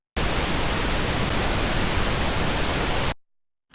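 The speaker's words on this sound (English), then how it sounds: "We'll run against pink noise just for reference real quick." A steady burst of pink noise test signal plays loud and even for about three seconds, then cuts off abruptly into near silence.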